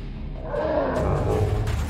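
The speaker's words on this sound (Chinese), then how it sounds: "这只怪兽的吼声震耳欲聋，并冲着你来" Deep, drawn-out monster roar from a megalodon and T-rex hybrid creature, a single loud bellow swelling and holding for under two seconds.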